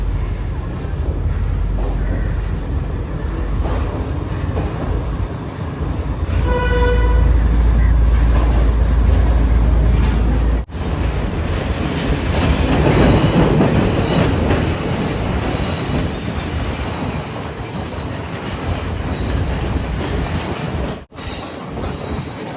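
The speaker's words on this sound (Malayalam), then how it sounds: "ബ്രേക്കിങ്ങിന്റെ ആ ഒരു ശബ്ദമൊക്കെ അതുപോലെ നല്ല കുലുക്കം തന്നെയാണ് ട്രെയിൻ" A Sri Lanka Railways coastal line train rattles and clatters steadily on its rails, with a long squealing brake whine rising midway and loud rumbling carriage noise throughout.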